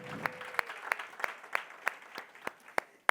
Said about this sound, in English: Another round of applause for Uthando.